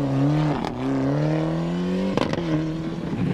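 A Ford Cosworth rally car on a stage of the 2000 Cork 20 International Rally, its engine holding a loud, steady note close by, with two brief sharp bursts as it shifts or backfires near the end.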